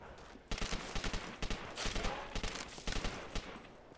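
Bursts of rapid gunfire in the video game Call of Duty: World at War, with sharp repeated shots in clusters of varying length, moderately loud and close, with no talk.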